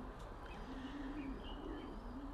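Racing pigeons coo inside their loft, a faint steady murmur of low drawn-out calls with soft chirps over a quiet hum.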